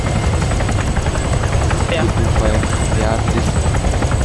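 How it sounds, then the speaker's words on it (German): A twin-propeller escort helicopter flying in Arma 3, a steady loud rotor and engine drone running throughout, with people talking over it. "Du fliegst ja die ganze Zeit mit diesem Escort-Heli dann am Stick mit zwei Propeller"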